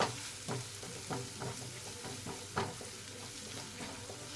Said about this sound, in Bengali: এবার দিয়ে দেবো আমি 1 চামচ ছোলা মশলা, দিয়ে আবারও ভালো করে নাড়িয়ে নেব।